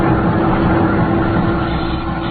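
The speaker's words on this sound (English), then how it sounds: "The door swung back and forth with the motion of the boat, and I could hear the sound of the engines." Boat engines drone as a radio drama sound effect, a steady low muffled rumble heard alone and close, constant in level with no breaks.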